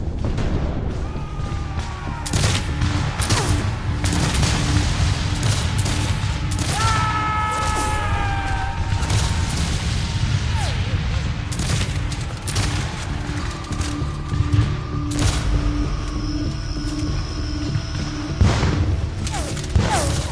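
Rifle musket gunfire in a battle at Gettysburg, with dense, overlapping volleys of loud shots and booming reports continuing throughout, some sharp cracks near and others rolling farther off.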